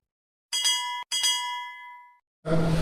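A bright notification bell rings twice in quick succession, each ding ringing out clearly before fading, followed by a burst of louder background sound.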